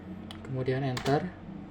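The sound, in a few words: pressing the Enter key on a computer keyboard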